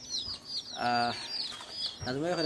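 Brightly dyed baby chicks, sold as colored chicks, cheep in a dense chorus of high, rapid chirps, with a voice speaking over them in the middle of the clip.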